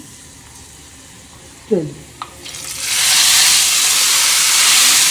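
Hot golden ginger tempering poured into Lahori hareesa hits with a short splutter, then breaks into a loud, steady, broad sizzle that continues to the end, with a brief spoken word beforehand.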